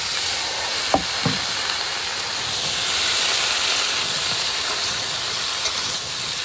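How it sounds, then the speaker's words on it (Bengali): Cauliflower frying in a pan as potatoes are about to go in, a loud steady hissing sizzle throughout with a couple of sharp knocks of a utensil early on, close and unbroken. "ফুলকপি কিন্তু হালকা ভাজা গেছে, এবার আলু দিয়ে দেবো।"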